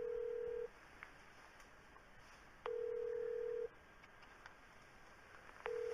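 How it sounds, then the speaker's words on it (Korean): A telephone call being connected, with steady single-pitch dialing tones sounding three times in regular bursts over quiet line hiss, no voices. "국밥님은 요 다음으로 제가 연결해 드리겠습니다. 국밥님하고 통화는"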